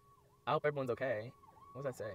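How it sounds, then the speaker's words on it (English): Ambulance and fire rescue sirens wail outside, their sweeping tones steady but faint beneath a voice talking close by. "there's ambulances everywhere and police officers."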